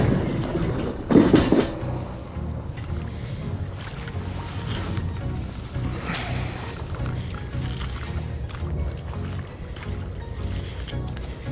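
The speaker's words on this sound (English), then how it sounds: "here comes the ferry" A ferry approaches on open water near a jetski launch spot, giving a continuous low engine rumble with a washing, churning texture that stays fairly steady and moderately loud throughout.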